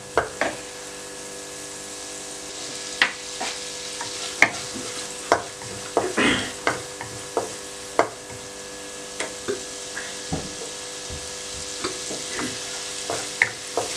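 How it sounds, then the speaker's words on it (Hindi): Chopped garlic frying in a pan, a steady soft sizzle broken by regular scraping clicks of a spoon stirring, close and unaccompanied by talk. "चंद सेकंड के लिए मैंने लहसुन को फ्राई किया"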